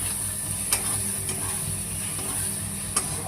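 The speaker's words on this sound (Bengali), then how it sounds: "এবারে এই মশলাটাকে কষাবো" Bengali masala for a chicken dish being fried and stirred in a pan, an even continuous sizzle with a few faint utensil clicks and scrapes.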